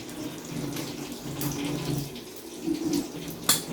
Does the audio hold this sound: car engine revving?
no